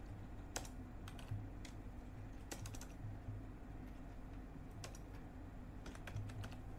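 Keystrokes on a computer keyboard while entering a Windows 11 command, a steady patter of separate clicks in small bursts over a low constant hum, close by with no voices.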